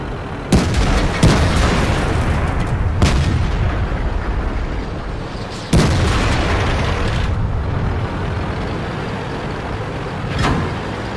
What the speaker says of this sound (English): see the tank destroyer just hit us from out there?